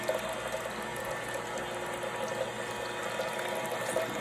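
A Hurom juicer crushing pineapple and ginger gives a steady, faint mechanical grinding hum with wet squeezing texture, continuous and unbroken.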